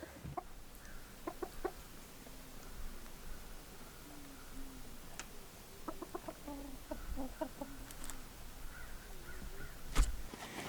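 Black Bresse chickens, a rooster and hens, cluck softly and intermittently nearby, with a sharp squawk near the end over a low background hum.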